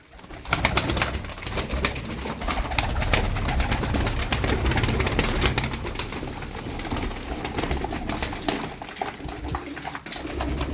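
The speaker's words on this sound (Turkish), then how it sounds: "Bakın size harika kuşlar çıkartacağım şimdi." Turkish play pigeons (oyun kuşları) coo continuously in a busy, fluttering flock, close and loud, with a steady rustle of wings and movement throughout.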